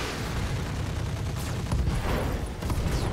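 Mech weapons firing in the game Roguetech, SRMs among them, make a dense, continuous barrage of booming gunfire and blasts with heavy low rumble, loud throughout and without speech.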